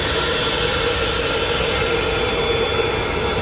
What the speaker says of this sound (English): On the private jet, on tour.